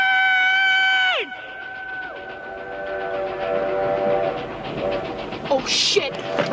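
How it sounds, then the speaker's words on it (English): A train from the film Stand By Me sounds a long, loud multi-tone horn, then rumbles and clatters past close by, with further whistle blasts and shouting voices near the end. "Train!"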